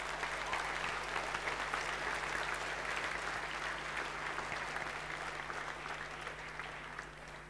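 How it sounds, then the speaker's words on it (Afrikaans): A church congregation claps hands steadily and densely, a continuous, even wash of applause at moderate level lasting throughout, with a faint low hum underneath. "Kom, klap hande vir die Here."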